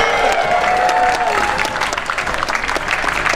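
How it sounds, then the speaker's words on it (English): Loud audience applause with scattered cheers greets two medieval combat teams before a 5v5 bout at a world championship, dense steady clapping throughout. "big welcome and a big cheer"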